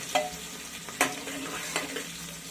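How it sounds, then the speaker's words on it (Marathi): Curry leaves and a dried red chili cooking in hot oil for egg biryani give a soft, quiet sizzle broken by three or four sharp stirring clicks. "त्याच्यातून हे कढीपत्ता आणि एक लाल मिरची ती मी टाकली आहे त्यात आपण थोडंसं व्यवस्थित तेला शिजून घेऊया"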